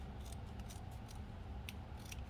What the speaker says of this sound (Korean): 여기를 가위로 이렇게 모양대로